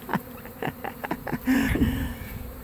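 A swarm of honeybees near a bait hive gives off a faint, close buzzing, with soft ticks and taps scattered through the short stretch.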